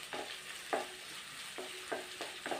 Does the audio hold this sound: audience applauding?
no